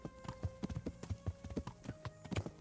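A horse's hooves clip-clop steadily in a stormy video-game setting in Bohemia, a quiet, even rhythm of hoof strikes on hard ground with no voices.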